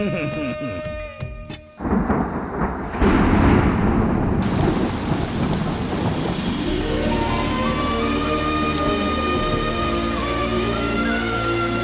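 Heavy rain pours down with a close crack and rumble of thunder early on, then the downpour keeps hissing steadily and loudly, with a faint hum beneath.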